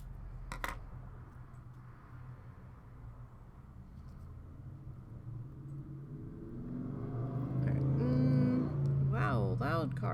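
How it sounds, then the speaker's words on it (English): Loud car passing outside, a low engine rumble swelling gradually and growing nearer toward the end, heard faintly through indoor surroundings with a voice talking over it. "Wow, loud cars."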